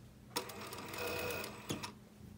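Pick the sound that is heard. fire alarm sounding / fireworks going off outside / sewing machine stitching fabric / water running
sewing machine stitching fabric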